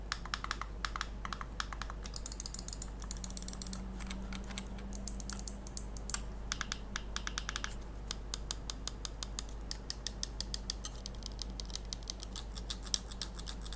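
Rapid, light clicking of Mad Catz R.A.T. 6+ mouse buttons, close and quiet, in irregular bursts over a low steady hum.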